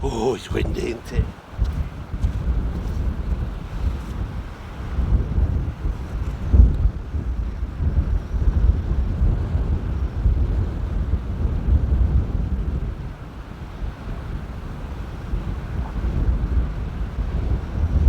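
Strong wind buffets the microphone on the shore at Preston Bullnose while people fish, a constant low rumbling roar with gusts, loud and close, with brief talk and a clatter near the start.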